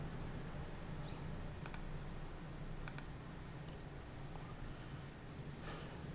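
A computer mouse clicks a few times, sharp and faint, spaced apart over a quiet room hum, with no talking.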